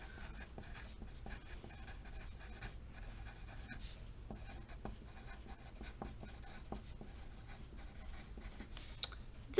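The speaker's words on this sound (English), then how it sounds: "So I'm going to write that out." Numbers being written by hand during a lecture, quiet scratchy pen or marker strokes in irregular short bursts and pauses, close and faint, with no talking.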